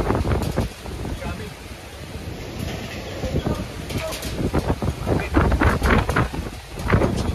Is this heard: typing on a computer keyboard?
no